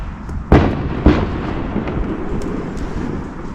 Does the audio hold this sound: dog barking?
no